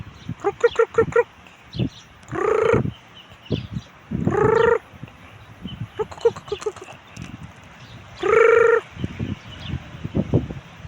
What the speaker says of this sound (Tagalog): Ito yung tatlo kong manok.